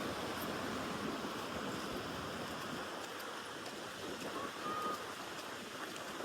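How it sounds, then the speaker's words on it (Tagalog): Ocean waves washing onto a beach make a steady, broad rushing roar with no breaks or talk. "Sarap kasi pakinggan yung tunog ng alon."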